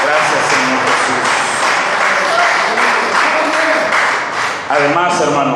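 A church congregation breaks into loud, sustained applause, dense clapping running unbroken with voices audible beneath and a brief dip near the end before it swells again.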